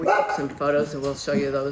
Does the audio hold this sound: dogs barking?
yes